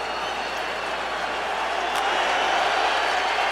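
A stadium crowd at a Dallas Cowboys home game against the Washington Redskins, a 2005 Monday Night Football game, roars in a steady, dense wash that builds slightly louder toward the end.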